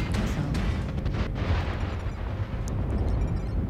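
A missile explosion in the MechWarrior Online video game, a dense, sustained roar of blasts and rumbling booms that stays loud throughout without pause.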